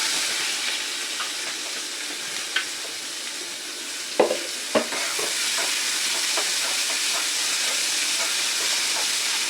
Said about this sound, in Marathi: ते परतले चांगले, फोडणी छान झाली.